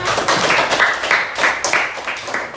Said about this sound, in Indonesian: Tepuk tangan untuk kelompok 9.